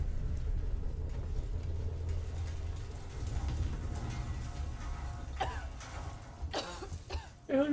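Coughing in the Alien Isolation video game aboard a space station, a few rough coughs and throat sounds near the end over a low ambient rumble.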